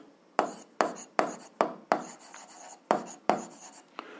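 Pen or chalk writes out an algebra solution in a string of close, distinct scratchy strokes, roughly nine sharp taps and scrapes in an irregular rhythm, quiet and alone.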